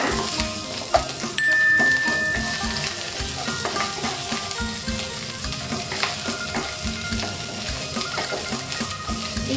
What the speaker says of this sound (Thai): ใส่พริกแกงลงไปทอดสักแป๊บนึงค่ะเพื่อนๆแต่อย่าให้ไหม้นะคะ